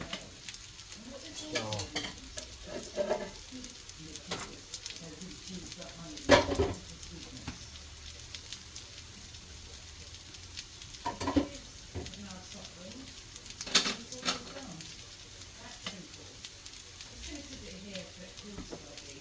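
Chicken and cheese schnitzels cook on a flat top griddle, a quiet steady sizzle broken by scattered clanks of a metal utensil and occasional scraping, with someone talking over parts of it.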